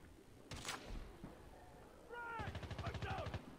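Rapid automatic gunfire rattles out in a Call of Duty Mobile match, a fast evenly spaced burst late in the moment after a couple of earlier single shots, moderately close over quiet game background.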